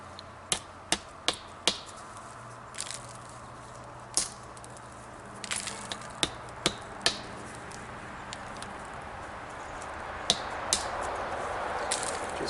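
Flint being knapped along the edge of a blade with a troublesome quartz pocket, a scattered series of sharp, close clicking chips with irregular gaps, fairly quiet overall with no voices.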